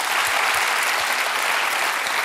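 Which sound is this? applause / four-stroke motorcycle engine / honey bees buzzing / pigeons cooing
applause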